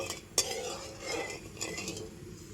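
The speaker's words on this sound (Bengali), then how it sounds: "এবারে নাড়াচাড়া করে চিনিটাকে ভালো করে গলিয়ে নেব।" A spoon stirs sugar into water in a pot to melt it: soft scraping and light metallic clinks against the pot, quiet and intermittent, with one sharper clink near the start.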